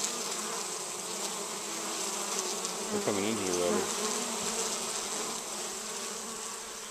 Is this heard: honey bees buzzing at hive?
yes